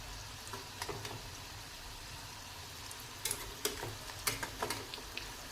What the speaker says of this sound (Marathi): आता दुसऱ्या बाजूने पण आपण व्यवस्थित तळून घ्यायचे